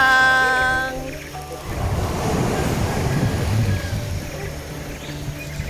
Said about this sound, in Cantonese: 呢邊已經叫做細浪㗎啦